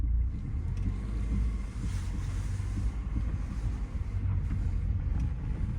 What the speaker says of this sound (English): So what I want to do next is just sort of drive the car